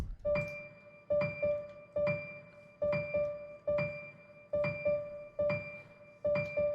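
Piano part for a trap beat, repeating a short rhythmic figure of struck notes with a sustained high tone, about eight evenly spaced hits, close and clear with no talking.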